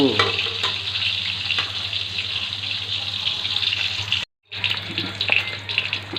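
Freshly caught krasoop fish sizzles as it fries in a pan, a steady close hiss and crackle with faint stirring, broken by a brief moment of silence before it resumes.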